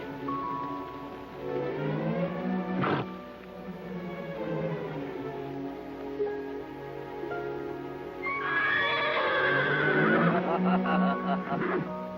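A horse neighs loudly in a 1956 Zorro Western film: several whinnies with wavering tones, one sharp burst near the start and a longer shrill neigh later, set against a background of film score and speech.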